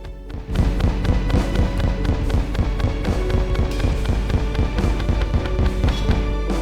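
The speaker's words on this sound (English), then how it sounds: "Fires a harpoon that sticks to enemies and explodes." Harpoon melee weapon in Terraria Calamity striking enemies and detonating. It produces a dense, loud, rapid run of sharp impacts and bursts that continues steadily without pause.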